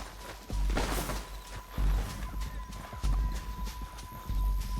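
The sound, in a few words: horse hooves clip-clopping in video game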